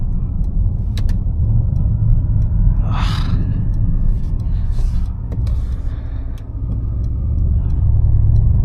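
Mercedes-AMG C63 S coupe (W205) driving on an open road, its engine a steady low rumble heard from inside the cabin that swells slightly toward the end, with a few faint breathy sounds from the occupant.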